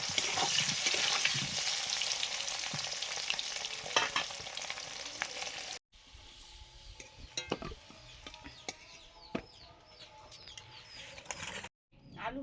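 Boiled, peeled potatoes frying in hot oil, a dense crackling sizzle with stirring noises throughout, close and fairly loud, briefly cutting out midway, with birds faintly calling in the background.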